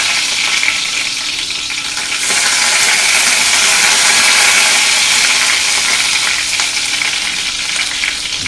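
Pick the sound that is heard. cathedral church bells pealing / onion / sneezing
onion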